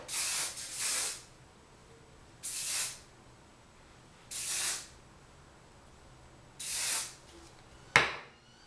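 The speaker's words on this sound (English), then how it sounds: "And then I hairspray it because I have tons of like little baby hairs" Hairspray hisses from an aerosol can onto hair in four separate short bursts of about half a second each, spaced a couple of seconds apart, followed by a sharp click.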